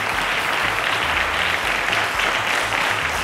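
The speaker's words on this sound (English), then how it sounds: "A round of applause to Ante." A studio audience applauds a contestant on a televised school quiz show, with dense, even clapping that stays constant and full throughout.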